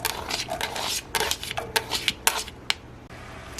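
Onions dropped into hot oil in a pan on medium-low heat, crackling and sizzling in uneven bursts at close range, with no talking.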